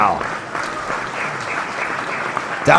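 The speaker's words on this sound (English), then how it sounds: "The crowd loves it." Crowd applauding at a PBA professional bowling match, a steady dense wash of clapping that holds throughout, with a brief louder burst near the end.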